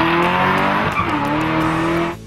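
Hennessy Camaro HPE650 muscle car roars loud and close at full throttle with a steady high-revving exhaust note and tyre squeal, cutting off abruptly at the end.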